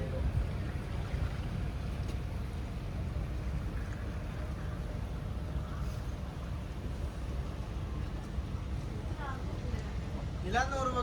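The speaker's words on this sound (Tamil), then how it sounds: "ஓடுதா போட் திரும்புதா" A houseboat cruising the backwaters of Alappuzha, Kerala, gives off a steady low engine rumble and water wash with wind buffeting the microphone, lasting throughout, with faint voices in the background.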